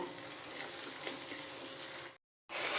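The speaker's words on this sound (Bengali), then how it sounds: "এবার আমি ঘিটাকে ভালো মতন এটার সাথে মিশিয়ে নেব" Ghee is stirred into carrot halwa in a pan, giving a quiet, steady sizzle with faint scraping that runs for about two seconds, breaks off into brief silence, then resumes.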